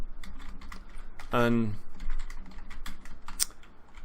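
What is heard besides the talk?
typing on a computer keyboard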